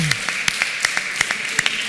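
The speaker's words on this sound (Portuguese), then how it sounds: "Você pode dar o melhor aplauso para Jesus." A church congregation at a worship service gives a round of applause, heard as sharp, distinct hand claps in a quick, uneven rhythm over a steady faint tone.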